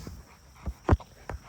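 Bishop, a very muscular dog, makes a few short panting and whimpering sounds, close and fairly quiet, in brief separate bursts with pauses between.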